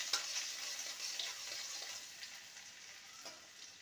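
Grated ginger frying in oil in a wok, a soft, faint sizzle with a few stirring taps that slowly fades.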